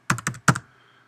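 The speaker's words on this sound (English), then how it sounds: "I'm going to actually have to type that in." Three quick clicks of keys on a computer keyboard, close and crisp, a short burst of typing followed by silence.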